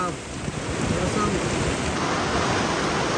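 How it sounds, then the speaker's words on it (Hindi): Heavy rain pours down in a dense, loud, steady hiss during a storm, unbroken across the whole stretch; there is no talking. "बारिश बहुत तेज हो रहा है"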